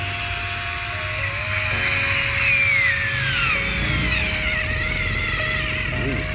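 A Xiaomi cordless electric screwdriver runs at gear 3 on full charge, giving a steady, close motor whine that holds throughout with slight pitch shifts, while a voice speaks faintly underneath.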